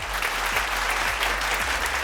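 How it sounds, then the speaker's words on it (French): Audience at a fashion show competition breaks into steady, dense applause, a continuous crowd of clapping hands at even loudness over a low background hum. "Merci, on peut applaudir."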